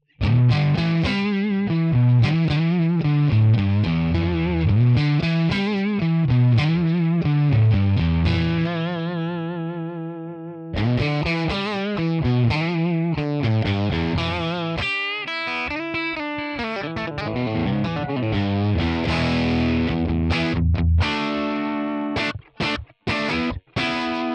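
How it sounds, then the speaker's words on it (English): A Stratocaster electric guitar with single-coil pickups plays a crunchy, overdriven tone through a Tonex amp model, ringing out chords and sustained notes with a brief pause midway, then choppy muted hits and short stops near the end. "Let's at first hear how the Strat sounds"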